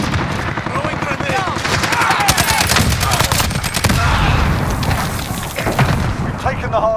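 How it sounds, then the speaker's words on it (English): A grenade explodes amid dense automatic gunfire during a Call of Duty Modern Warfare 2019 hardpoint match, loud and continuous booms and rattling bursts throughout, with game voices mixed in. "Throwing grenade."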